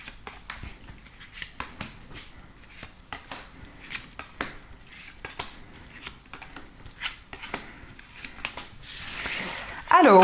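Tarot cards are shuffled and drawn in quick, crisp bursts of riffling and sliding across a table, close and fairly quiet, with a louder flurry of handling near the end.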